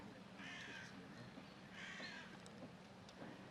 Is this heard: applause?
no